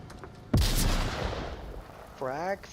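Gunfire in a VR shooter match between two teams, one sharp booming shot followed by a decaying rumble, with a brief voice near the end.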